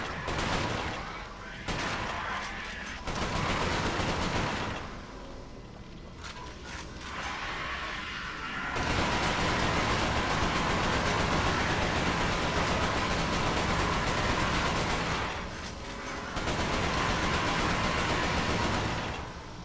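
Gunfire in Resistance: Fall of Man, dense bursts of shots rattling almost nonstop through a firefight, loud and close with only short lulls, mixed with mechanical clatter and faint talk.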